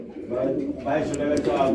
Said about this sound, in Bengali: এখানে রয়েছে এক পিস সিঙ্গেল কবুতর